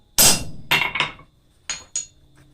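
Hammer blows tighten a rivet on hand-forged blacksmith calipers: five sharp metallic strikes, two close together, then a pause and two more, loud and close with ringing decay.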